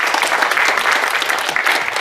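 An audience applauds volunteers after a thank-you at a Paris tournament, with steady, dense clapping that stays loud throughout.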